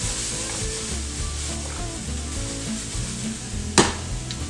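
Garlic sizzles in a stir fry with pork as it is mixed in the pan, a steady close frying hiss over a low hum, with one sharp scrape of the utensil near the end.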